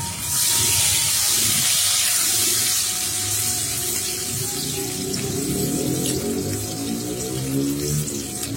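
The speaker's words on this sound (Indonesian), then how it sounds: "tumis bawang merah dan bawang putih hingga layu" Steady, loud sizzling hiss of shallots and garlic sautéing in hot oil, continuous throughout with no talking.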